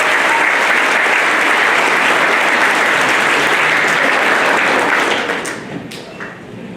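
Sustained audience applause at a middle school seventh grade academic awards ceremony, loud and dense throughout before thinning out near the end.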